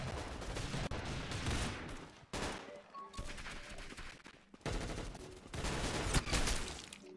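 Gunfire in the Roblox shooter Arsenal, loud rapid bursts of automatic fire broken by brief pauses, with no talking.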